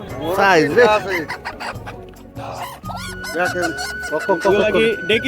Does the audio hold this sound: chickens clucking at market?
yes